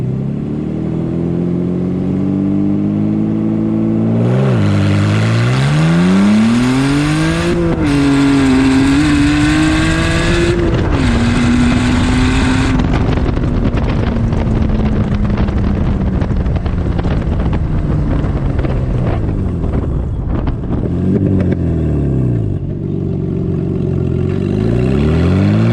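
A Z-Kart car on its first real drive after getting a new wheel and tire setup: the engine revs up through several gear changes with rising and falling pitch, loud and close, mixed with strong wind buffeting.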